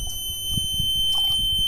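A homemade water level indicator alarm rings with a steady, high-pitched electronic tone, continuous and fairly loud over a soft low rumble of background noise.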